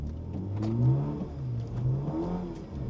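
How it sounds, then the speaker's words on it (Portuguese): A rear-wheel drive car with traction control switched off revs hard on a wet road in the rain, its engine surging and falling in a few rising bursts, close and loud. "Só vou dar uma acelerada para demonstrar para vocês o que acontece quando a gente acelera o carro, um tração traseira, controle desligado aqui na chuva."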